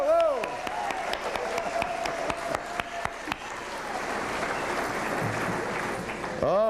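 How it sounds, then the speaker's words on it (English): Banquet audience at a 1992 GM Motorsports event breaks into a big round of applause, a dense wash of clapping with sharp individual claps early on, joined by a voice calling out over the crowd. "big round of applause"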